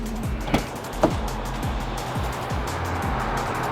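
A FORTY6 car on coilover suspension driving on the road, a steady engine rumble with repeated gear-shift sweeps rising and falling, heard from inside the car.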